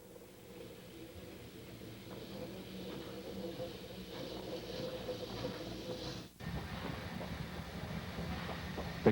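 Steam locomotive on the ET&WNC (Tweetsie) narrow-gauge line backing out of a siding after its runaround, a steady low rumble and rolling rattle with wind buffeting close to the microphone, followed by a brief dip in the noise before it builds again.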